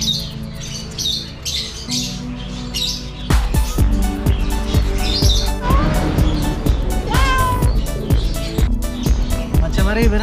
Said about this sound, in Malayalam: ഇവരാണ്ടോ നമ്മുടെ ബംഗാൾ ക്യാറ്റ്